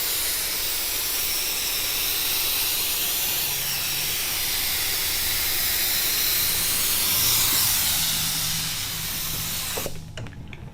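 Light air spray hisses steadily over hydro dip film floating on water while Toyota Tacoma parts are prepared, a broad continuous wash that holds close and even before cutting off abruptly near the end.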